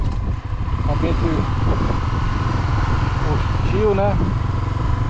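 A Honda Twister 250 motorcycle engine rumbles steadily while riding off-road on a rough trail in Serra da Canastra, loud and close throughout, with someone talking over it.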